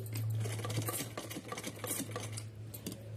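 A sewing machine runs under close, steady stitching while pleats are sewn on a small doll dress for a Laddu Gopal outfit, with a low motor hum and light clicking of the needle mechanism.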